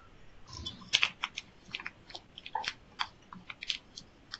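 Fingers tap a computer keyboard in a quick, irregular run of light clicks, close but faint, with no voices.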